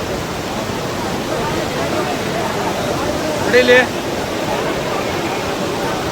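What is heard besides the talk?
high, fast-flowing river water at Kottiyoor Shiva temple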